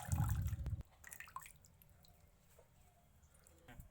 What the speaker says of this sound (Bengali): এবার জল থেকে তুলে ভালো করে চেপে চেপে জলটা ফেলে অন্য একটা গামলার মধ্যে রাখবো